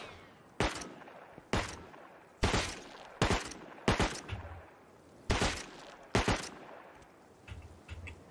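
Gunshots in the survival video game Rust, about eight sharp single reports spaced roughly a second apart, each with a short decaying tail, fairly distant and without talk.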